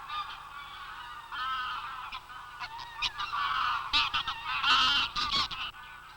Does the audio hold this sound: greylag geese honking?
yes